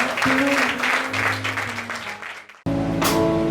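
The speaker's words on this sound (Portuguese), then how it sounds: "Vamos aplaudir o Senhor." Church congregation applauding during a Sunday worship service, a dense wash of clapping that fills the room, with organ or keyboard tones sustained underneath before a brief drop and a renewed swell.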